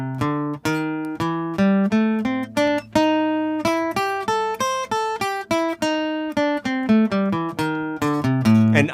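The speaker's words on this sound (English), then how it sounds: "So the blues scale sounds like this. So This is an A." A blues scale in A played note by note on an acoustic guitar, a steady run of clear plucked tones climbing and descending, close and fairly loud, with no talking.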